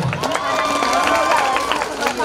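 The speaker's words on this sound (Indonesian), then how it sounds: "Beri tepuk tangannya meriah untuk kelas 10/9." A school audience at a high school project showcase applauds a class 10/9 theatre performance, a loud, continuous wash of clapping mixed with crowd cheering and voices.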